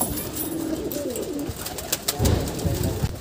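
Pigeons in a rooftop breeding loft coo in low, throaty murmurs close by, with a few soft thumps and rustles of movement partway through.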